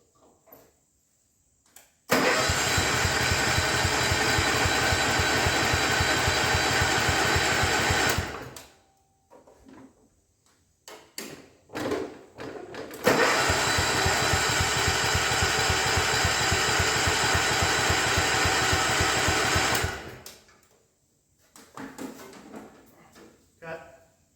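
A 1972 John Deere 110 lawn tractor that sat in a barn for years runs in two loud sustained bursts of about six and seven seconds, each cutting off abruptly, with brief talk and handling noises in the quieter gaps.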